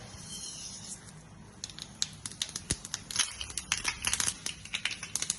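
Mustard seeds dropped into hot coconut oil for a chutney tempering sizzle at first, then burst into rapid, irregular crackling pops, close and growing busier toward the end.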